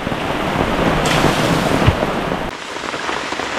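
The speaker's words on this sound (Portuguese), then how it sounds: "Tá caindo uma chuva lá fora" Rain falling outside a riverside camping spot, a loud dense steady hiss and patter close by, briefly dropping lower near the end.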